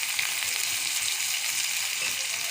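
Mango leather and dried mango slices fry lightly in hot oil for an old-style pumpkin and tomato chutney, a bright, constant close-up sizzle with no voices.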